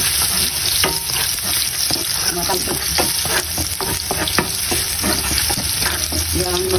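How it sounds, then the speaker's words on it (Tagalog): Garlic sizzles in hot cooking oil for a Chinese spinach dish, a continuous loud crackling fry broken by repeated scraping clicks as a utensil stirs the pan. "Lagay tayo ng cooking oil. Lagay tayo ng garlic. Then, halo natin."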